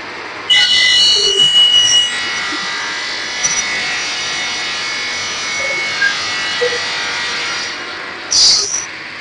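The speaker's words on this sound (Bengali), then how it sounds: "এটা হচ্ছে আমাদের ডিগ্রি কাটিং, এটা 90 ডিগ্রি, খুবই ভালো মানের কাটিং।" A 90-degree cutting machine imported from China runs in a workshop, producing a steady high hiss and buzzing whir with a few sharp squeals as a cut starts and ends.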